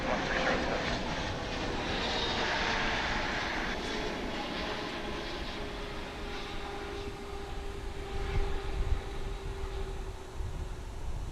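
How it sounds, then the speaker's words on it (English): A Boeing 777 arriving from London Heathrow roars steadily at DFW International Airport, a broad sustained jet rumble with a faint whine that swells slightly near the end, heard outdoors without speech. "I'm gonna divert for another 777. This one's coming in from London Heathrow."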